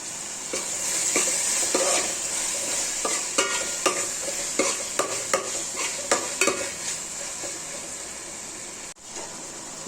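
Onions and tomatoes sauté with salt in a pan for chicken biryani, under a steady close sizzle. A spatula scrapes and stirs in a string of irregular strokes over the frying.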